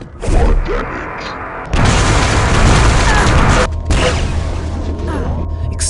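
Heavy explosions in the arena shooter Quake 3 Arena: several loud booming blasts, with the biggest bursts near the start and two more later, over dense crackling weapon noise and a low rumbling game background.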